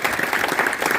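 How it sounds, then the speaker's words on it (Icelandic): A short burst of steady applause from a studio audience during a live-streamed talk show in Keflavík, dense and even throughout. "Fáðu smá klapp fyrir því"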